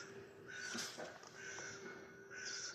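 Crow cawing in a county park, several harsh calls at moderate distance spread across a few seconds over steady outdoor ambience.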